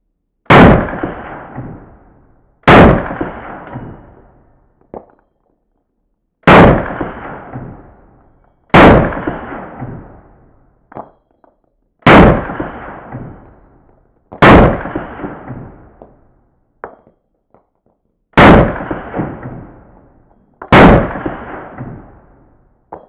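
Eight sharp 9 mm pistol gunshots fired through a HERA ARMS LINK muzzle device, each a loud close crack with a short decaying ring, spaced a few seconds apart with silence between.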